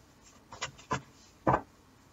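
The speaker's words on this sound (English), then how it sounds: "I'm shuffling on camera so that you can see that I am doing it" Mystical Manga tarot deck being shuffled by hand, three or four quick soft papery riffles and slaps spaced across a quiet room, with no talking.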